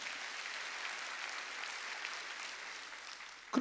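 A church congregation at a Sunday worship service claps together in a steady, even wash of applause that holds for a few seconds before a sudden louder burst at the end.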